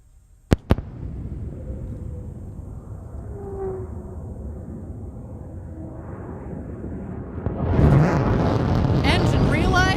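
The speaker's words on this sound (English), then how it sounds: "Engine relight." Blue Origin New Shepard rocket booster relights its engine just before landing, a sudden loud roaring rumble surging in near the end after steady broadband noise and faint talk, with two sharp cracks early on.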